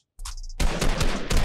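Pistol gunfire in a video game: a quick burst of sharp shots, then a dense string of loud, rapid cracks that runs through the rest of the moment.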